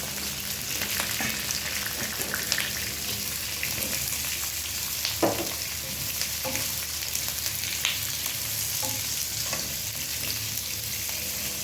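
Onion and blanched carrots stir-frying in a pan make a constant close sizzle, broken by intermittent scraping and clacking as the utensil stirs, with no voices present.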